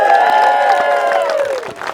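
An audience at a live comedy club show cheers and applauds loudly, with sustained whooping voices over clapping that fades toward the end.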